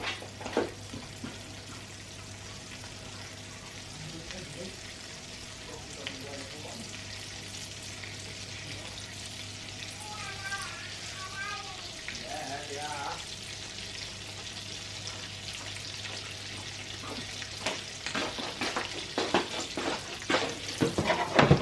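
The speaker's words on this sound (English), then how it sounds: "We're just going to cook that garlic out a little bit." Garlic frying in a pan, a steady soft sizzle running throughout, with some faint stirring scrapes and a few louder crackles and pops toward the end.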